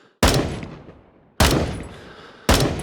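Three loud, sharp semi-automatic rifle shots from a Rising Storm Vietnam game, evenly spaced about a second apart, each with a long decaying echo tail and no talk over them.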